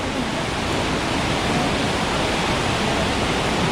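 Forceful monsoon stream rushing past a water crossing on the Netravathi peak trek, a dense, steady roar of churning water filling the whole clip at close range with no voices.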